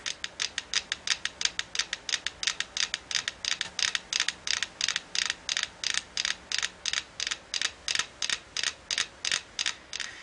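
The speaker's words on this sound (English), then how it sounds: "this rotation and vibration go into the wood and going to couple all the metronomes together, and now listening to their click" Several metronomes on a shared wooden platform set on rotating cylinders tick together in a steady, evenly spaced rhythm of sharp, close clicks that run continuously with no voices.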